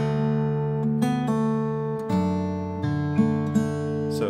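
Fingerstyle acoustic guitar plays the Skye Boat Song verse, plucked bass notes and pinched melody notes in a slow, steady rhythm with ringing sustain, close and clear with no talk.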